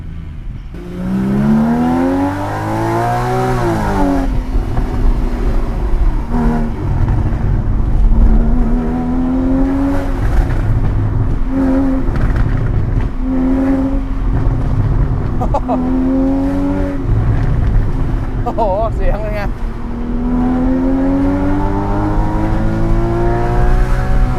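A Porsche Boxster 981 engine revs through gear changes, loud and close, its pitch repeatedly climbing and dropping with short throttle blips between shifts while a person talks over it.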